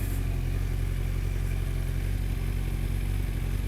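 Kawasaki ZX-12R motorcycle with an Akrapovic exhaust running outdoors, a steady low rumbling idle with mechanical clatter, continuous and moderately loud, no speech.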